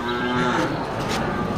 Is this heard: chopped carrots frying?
no